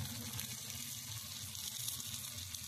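Sliced bitter gourd (uchhe) frying in oil in a pan, a steady, soft hiss and crackle with no talking.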